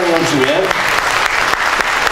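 Audience applause at an anniversary concert, dense clapping from a crowd rising in as a voice trails off, then continuing steady and close for the rest of the moment.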